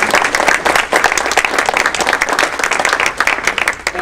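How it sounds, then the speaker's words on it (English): Audience at a women's morning event claps in a lively, slightly uneven round, with individual hand claps standing out from the steady applause. "I want you to give a really good round of applause"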